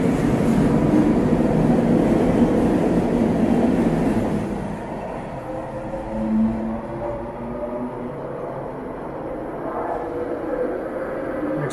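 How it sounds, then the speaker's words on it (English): A small rapid transit train on Toronto's Line 3 in Scarborough rumbles and rolls loudly along the track, the steady roar easing partway through into a lighter, continuing rail rumble. "Here's a look at the very small trains here they have here on line 3."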